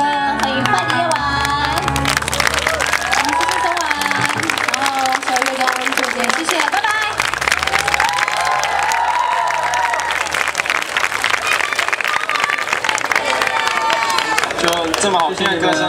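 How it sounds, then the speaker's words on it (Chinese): Audience at a university guitar festival breaking into sustained applause and cheering, loud dense clapping from a large crowd with music and voices mixed in underneath. "是不是应该再一次热烈的掌声呢"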